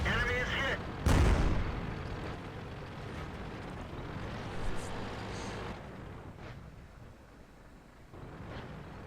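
A tank takes a shell hit in World of Tanks: a loud, booming impact bursts out near the start, followed by steady rumbling battle and engine noise that slowly fades.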